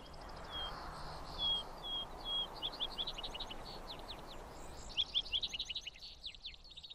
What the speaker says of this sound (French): Au sommet du mont du Purgatoire se trouve un bois où souffle une légère brise et où résonne le chant des oiseaux.